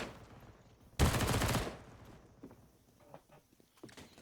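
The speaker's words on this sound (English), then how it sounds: "Yeah, big headshot from DemQQ" Gunfire in a Counter-Strike match on the Ancient map at a professional esports qualifier: one loud burst of rapid shots, followed by quieter footsteps and clicks, with no talk.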